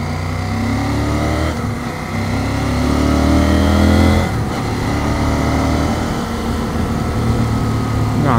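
A motorcycle climbs uphill, its engine droning loud and steady with gradually rising pitch as it pulls under throttle, close by with no talk.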